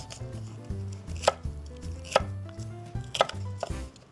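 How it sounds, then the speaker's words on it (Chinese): A knife chops onion into pieces the size of asparagus on a cutting board, giving an uneven run of crisp, close thuds over a faint background tone. "洋葱就跟芦笋切一样大"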